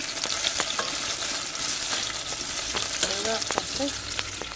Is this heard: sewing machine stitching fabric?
no